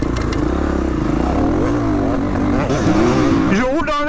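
A motocross bike rides across a grass track, its engine revving hard and climbing in pitch near the end. It sounds loud and close, and someone talks over it the whole time.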